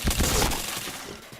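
Gunfire in the Point Blank shooting game comes as a short, dense burst of booming shots that dies away within about a second, loud and close.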